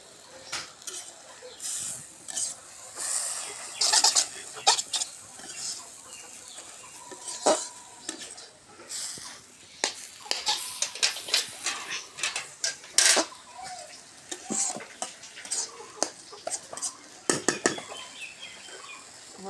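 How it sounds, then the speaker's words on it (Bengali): A lid lifted from a cooking pot of jute leaf greens, followed by scattered metallic clinks and clatters of pots and utensils. Irregular bursts are spread over nearly twenty seconds, with faint fowl clucking in the background. "একটু ঢাকা দেওয়া ঢাকা খুলে দেখি"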